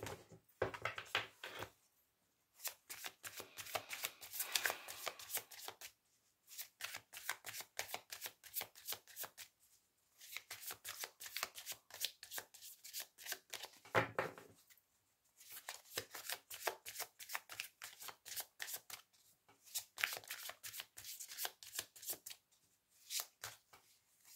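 Tarot cards being shuffled, a deck of about eighty, in repeated bursts of dense riffling and flicking with short pauses between, close and fairly quiet, no talk.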